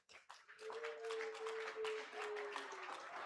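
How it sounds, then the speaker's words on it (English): An audience at a goat show at a state fair claps faintly, with soft, scattered clapping and a sustained tone or voice running through the middle. "Give him a good round of applause."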